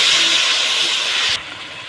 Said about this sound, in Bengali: আমি মশলার একটু জল দিয়ে দিচ্ছি